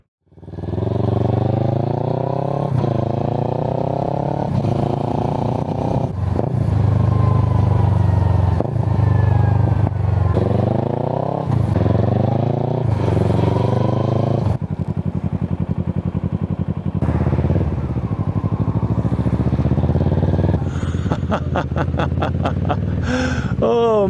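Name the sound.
Kawasaki Versys 650 motorcycle riding with Hurric Rac1 exhaust, baffles removed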